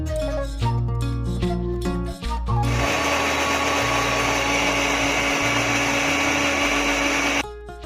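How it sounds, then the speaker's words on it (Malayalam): Mixer grinder grinding tomato chutney, with short whirring pulses at the start, then a loud, steady close grinding drone that stops near the end. "ഇനി അത് മിക്സിയിലേക്ക് ഇട്ടിട്ട് ഒന്ന് അരച്ചെടുക്കാം."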